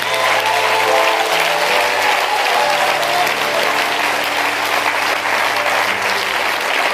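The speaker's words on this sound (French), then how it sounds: "acclame, acclame, acclame." A church congregation at a sermon applauding, a loud, dense and sustained clapping from a large crowd, continuous throughout with a faint sustained tone beneath.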